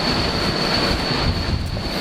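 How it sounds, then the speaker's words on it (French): An Atlantique 2 aircraft engine runs at Le Bourget as wind picks up over the runways, giving a steady, loud broadband roar with a constant high whine and gusty rumble throughout. "sur fond de moteur départ de l'Atlantique 2 et du vent qui commençait à se lever sur les pistes du Bourget"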